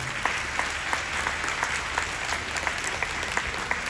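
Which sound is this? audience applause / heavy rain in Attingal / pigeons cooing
audience applause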